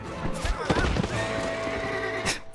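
A horse whinnies in Red Dead Redemption amid busy game sounds, with loud crackling bursts and clatter around it and a voice talking over part of it.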